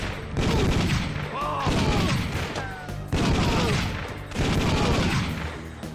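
Repeated gunfire from shooting enemies in the arcade shooter Time Crisis played in VR, loud dense bursts of shots in two long volleys with a short lull between, with faint game voices mixed in.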